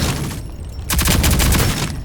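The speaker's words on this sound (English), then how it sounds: "You shoot around the corner." A burst of rapid gunfire around a corner in Rogue Company, loud sharp shots starting abruptly after a quieter hum, then a sustained rattling volley lasting about a second before easing.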